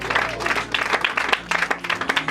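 A church congregation claps and cheers loudly for the Lord during a worship service: a dense, sustained wash of applause fills the room throughout, close and steady with no break.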